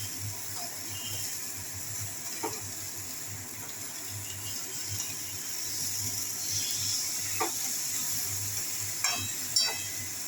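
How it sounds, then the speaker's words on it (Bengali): Raw banana koftas are tossed with spice paste in a pan, giving soft scraping stirs and a quiet sizzle over a low steady hum, with a few sharper clinks toward the end. "কোপ্তাগুলোর সঙ্গে মশলাটা একটু মাখিয়ে নিলাম"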